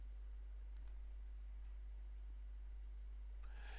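A computer mouse clicks while navigating folders in the Joomla Media Manager, heard as a few faint, sharp clicks spaced apart against a quiet, humming background.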